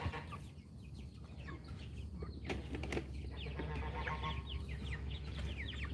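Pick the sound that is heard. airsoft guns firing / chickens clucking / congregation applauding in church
chickens clucking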